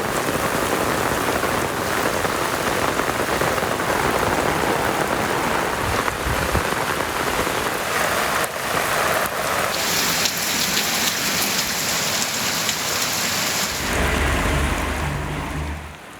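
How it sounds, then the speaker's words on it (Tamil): Heavy rain with strong wind around Alangudi in Pudukkottai district, Tamil Nadu, pouring in a dense, unbroken roar and hissing on surfaces for the whole stretch. "புதுக்கோட்டை மாவட்டம் ஆலங்குடி சுற்றுவட்டார பகுதிகளில் பலத்த காற்றுடன் கனமழை கொட்டி தீர்த்தது."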